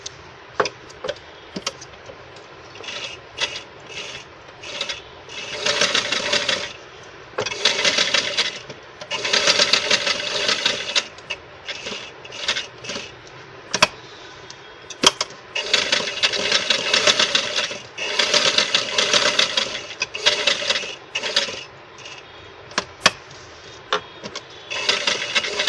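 Sewing machine stitching the neckline of a suit, running in repeated bursts of rapid mechanical whirring with short pauses between runs, close and fairly loud with no talking.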